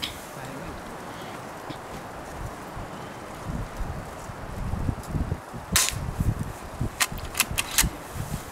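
A few sharp, quick cracks from a Daisy Model 25 air rifle sound in the second half, sparse and irregular over outdoor background noise, with faint voices nearby.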